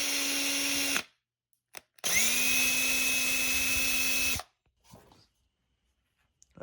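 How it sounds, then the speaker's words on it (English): A power drill bores through a plastic spray paint can cap being fitted as a vacuum line adapter for a BMW misfire repair. Two close, loud bursts of steady whining: a short one, then a longer run after a pause. "So I'm just gonna drill it out and get our vacuum line in there."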